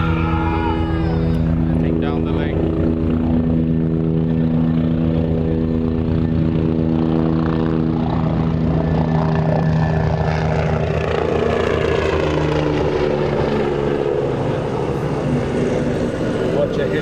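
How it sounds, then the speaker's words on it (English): A helicopter flies over the Western Province Cricket Club during a cricket match, a steady loud rotor and engine drone sweeping across the ground, with people talking over it. "helicopter fly over Western Province Cricket Club"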